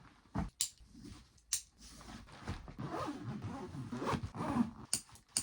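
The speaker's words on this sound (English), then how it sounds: "I'm just going to zip this up" A packed travel bag being zipped shut, giving several quick, close rasping zipper pulls with short pauses between them, heard alone with no talking.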